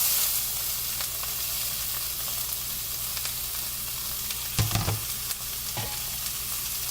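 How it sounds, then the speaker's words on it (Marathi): Onion drops into hot oil already sizzling with green chillies, making a loud continuous frying hiss with a few spatter bursts and utensil knocks midway, no speech. "आणि त्याच्यावर लगेच मग मी हा कांदा टाकत आहे."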